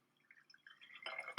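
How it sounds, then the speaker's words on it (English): Hard water trickles and splashes into a container holding liquid hand soap, faint soft drips at first, then a brief louder gush of pouring near the end, close and quiet. "I'm going to pour our hard water in there"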